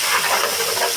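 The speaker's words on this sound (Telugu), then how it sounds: "ఇప్పుడు మనం ఉల్లిపాయలు వేసేసుకుందారు. దీంట్లోనూ ఉల్లిపాయలు బాగా వేగనివ్వండి." Sliced onions frying in a pan for a Telugu bottle gourd curry, giving a steady, close sizzling hiss with no voice over it.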